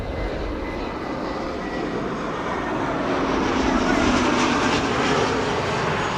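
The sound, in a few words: Ita Airways A320neo airliner arriving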